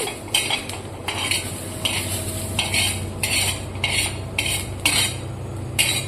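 Roasted ingredients for thecha, a Maharashtrian chilli relish, are pounded in a stone mortar and pestle, giving a steady series of sharp knocks and scrapes about every half second over a low kitchen rumble. No one speaks.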